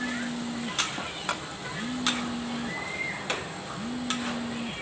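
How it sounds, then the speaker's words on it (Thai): Chili and garlic stir-fried in a pan give a steady soft sizzle, with sharp spatula scrapes and clinks against the pan roughly every second and a faint hum beneath. "ผัดพริกกับกระเทียมให้หอมเลยจ้า"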